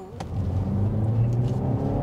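A 2023 BMW X1 small luxury SUV pulls away from a standstill, its engine and road noise swelling steadily for about two seconds, with no voices.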